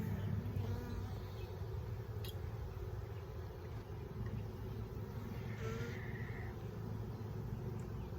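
Honeybees from an opened hive hum as a steady, low, continuous buzz that sits under a constant outdoor background, moderately faint, with no pauses.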